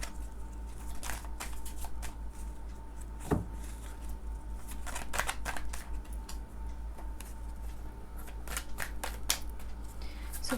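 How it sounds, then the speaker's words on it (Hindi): Tarot cards are shuffled by hand, giving soft riffling and intermittent crisp flicks over a constant low hum, close and fairly quiet with no talking. "लेट मी सफल द कार्ड्स।"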